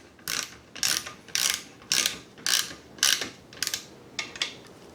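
A ratchet wrench clicks through about nine short, even strokes as it tightens a 7/16 bolt head into aluminum during an animatronic restoration, loud and close with no talking.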